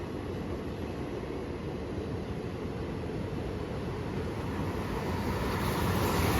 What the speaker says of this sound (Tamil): இது ஃபுல்லாக கேரளா போகிற ட்ரெயின்.